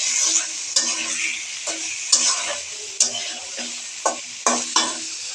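Green chili and chopped garlic fry in hot oil in a pan, a bright steady sizzle broken by repeated clicks and scrapes of a spoon stirring against the metal.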